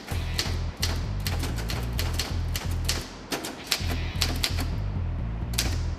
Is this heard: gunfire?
no